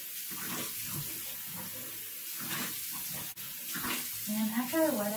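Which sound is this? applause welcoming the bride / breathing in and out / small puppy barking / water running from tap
water running from tap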